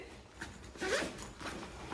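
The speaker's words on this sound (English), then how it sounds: "In the back, we have another zipper, resistant too." Rear zipper on a large SUPROMOMI travel duffel bag being pulled, a short continuous rasping zip up close lasting about a second, with faint handling noise around it.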